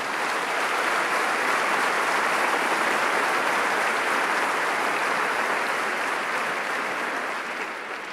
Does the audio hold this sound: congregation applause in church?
yes